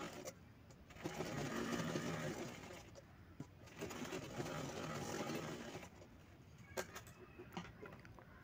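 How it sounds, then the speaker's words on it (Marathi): An electric sewing machine stitches fabric pieces together for a homemade mobile holder, a close steady whirring hum running in long bursts with brief pauses and small mechanical clicks between them. "चारही बाजूंनी आपल्याला पूर्ण शिलाई करून घ्यायची आहे।"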